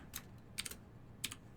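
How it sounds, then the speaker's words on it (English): Keys clack on a clicky computer keyboard in quick irregular bursts of sharp, fairly quiet taps separated by short pauses, with no speech. "God bless clicky keyboards."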